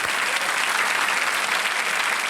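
Dense, steady applause from a large studio audience at a Hindi television quiz show, loud and continuous throughout without pause.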